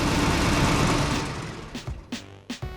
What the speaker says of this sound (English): turning off the engine and you hear that